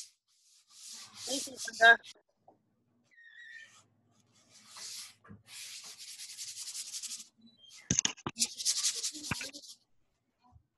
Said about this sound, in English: You can hear all the little sanding.